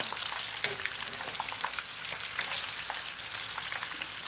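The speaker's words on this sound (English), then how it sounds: "You leave this to fry." Baby sardines fry in a pan with a dense, continuous sizzle and crackle, close and steady, with occasional soft stirring or scraping touches and no talking.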